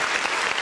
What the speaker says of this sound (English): Round of applause to all you guys.